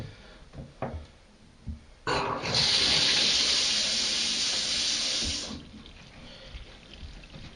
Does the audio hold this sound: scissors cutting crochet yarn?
no